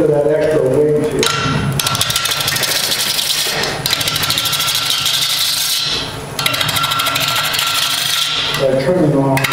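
A wooden form is trimmed on a lathe with the tailstock in position, giving a loud rasping, scraping cut in long sustained passes broken by brief pauses while the lathe hums underneath.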